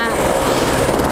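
A helicopter arriving at a landslide site in Lidi, Nepal, giving a dense, roaring rotor and engine wash that fills the scene loudly and steadily, close by and without pause.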